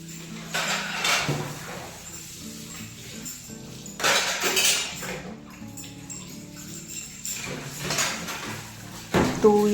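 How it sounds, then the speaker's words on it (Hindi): Metal utensils and pots clink and scrape as they are scrubbed and rinsed in a home kitchen, with repeated clattering bursts over running background noise, fairly close. "वो सारे बर्तनों को मैंने मांज के धुल दिया है"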